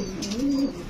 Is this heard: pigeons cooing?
yes